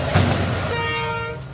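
A train passing on a railway line through forest, loud and close, with a rumbling roll, a brief horn-like tone and steady wheel noise filling the whole moment.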